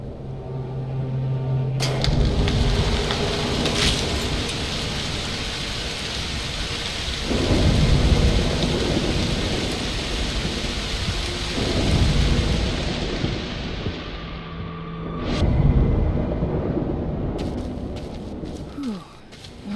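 A thunderstorm in the video game Broken Pieces, with steady heavy rain and several deep, rolling thunder crashes that swell and fade over the downpour.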